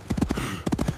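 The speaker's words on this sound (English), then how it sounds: "Sound effects like gallop, neigh, and thump emphasize the fast, chaotic motion of the runaway horse." A runaway horse galloping in a sound effect: quick, soft hoofbeat thuds in two short clusters, with a brief gap between them.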